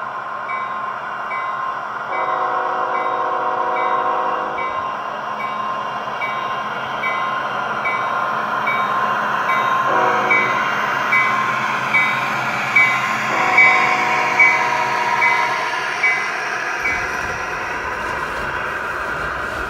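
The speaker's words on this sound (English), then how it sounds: "The local rounds the last curve before slowing and arriving at the riverbank yard." A G scale model freight train hauled by Dash 9 locomotives rounds a curve toward a riverbank yard, with a steady rolling rumble, repeated horn blasts and light clicking of wheels over track joints, close and continuous.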